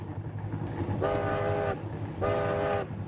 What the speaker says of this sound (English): The train's coming, boy.